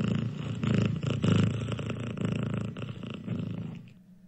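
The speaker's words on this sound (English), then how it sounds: "Meow like a cat. This is a cat." A cat purring close up from a smart speaker, a low rumbling vibration pulsing with each breath, steady and continuous before fading out at the end.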